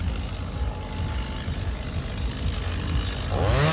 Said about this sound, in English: We have ourselves a chainsaw right here.